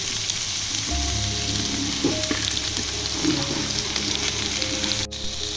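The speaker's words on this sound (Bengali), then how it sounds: "এর মধ্যে কেটে রাখা আলু লঙ্কা আর বেগুনগুলো দিয়ে দেব" Potatoes, chilies and eggplant fry in hot oil in a wok with a steady, close sizzle that swells once the vegetables go in, punctuated by a few soft stirring scrapes.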